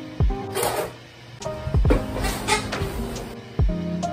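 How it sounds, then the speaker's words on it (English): The bass line of a bedroom pop beat sounds as a few deep, sliding bass notes struck with punchy attacks, spaced over several seconds beneath a busy, textured mix. "I transitioned into like a verse slash chorus with this bass right here."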